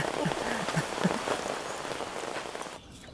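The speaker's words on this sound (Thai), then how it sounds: "ไปเข้าร่มก่อนครับ ฝนตก" Rain falls outdoors at a buffalo pen in a dense, steady patter that stays close and even, then thins abruptly near the end.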